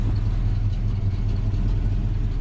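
V8-swapped Chevrolet S10 pickup with aftermarket Flowmaster-style mufflers idling, a loud, close, steady low rumble with a lumpy, throbbing pulse and no talking over it.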